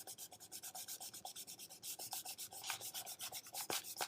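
A hand rubs down a glued paper tube in a steady rhythm of close, soft rasping strokes, repeated evenly with no talking.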